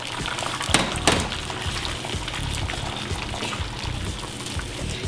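Whisked eggs for zucchini pad thai heat in a pan, giving a steady wet sizzle and faint crackle that run on without a break, close by, with two brief sharper clicks near the start.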